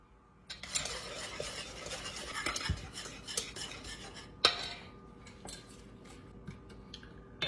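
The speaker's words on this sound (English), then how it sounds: "Stir constantly because it will stick." Caramel is stirred constantly in a pan on a hot burner that has been switched off, with a utensil scraping and tapping against the metal in an irregular rhythm, close and fairly quiet, with one sharper clink midway.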